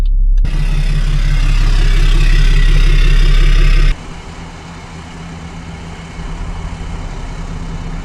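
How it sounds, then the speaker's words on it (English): A BMW F10 engine settles into a steady idle just after starting, a close, loud low rumble that drops to a quieter, even hum partway through. "Engine has started."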